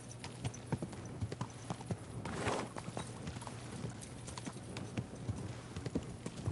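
Steady clip-clop of horse hooves at a walking pace in the video game Kingdom Come: Deliverance II, fairly quiet and even, with a brief louder rustle in the middle and no talking.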